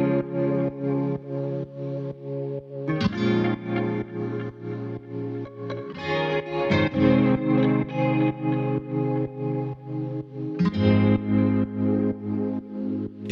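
Guitar chords in a lofi house production, processed with distortion, chorus and echo, change every few beats over a pulsing rhythmic pumping; loud and upfront with no voice.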